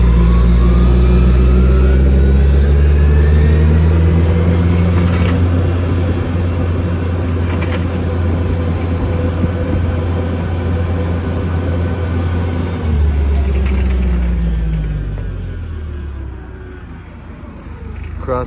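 A truck drives across a street between two yards, its engine a loud steady low rumble held close throughout and easing slightly near the end.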